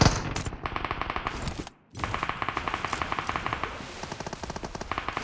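Machine gun fire in the mobile shooter PUBG Mobile: rapid, loud automatic bursts with rhythmic cracks, broken by one short silence before the fire resumes and carries to the end.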